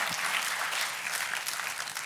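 A church congregation claps in a dense, even burst of applause, filling the room at moderate level with no voices over it.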